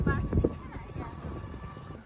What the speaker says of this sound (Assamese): আগফালে চাওক না গাড়ী এটা গৰু গাড়ী গৈ আছে